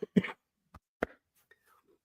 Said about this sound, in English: My abs are getting a good workout with these coughs I've been having.